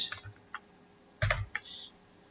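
A computer keyboard typed on in a few sparse, light key clicks and taps, close and quiet, with a brief cluster of strokes in the middle and no talking over it.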